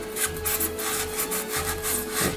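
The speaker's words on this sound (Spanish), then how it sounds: "lo que hacemos es ir cortando, introduciendo el" A craft knife saws back and forth into card while making a Christmas bear lantern, giving a steady rasping scrape in close, repeated strokes with no voices.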